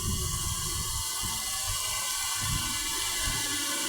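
Floodwater torrent of about 52,000 cusecs rushing past a riverbank, a loud, steady broadband roar with low rumbling surges underneath, no voices over it.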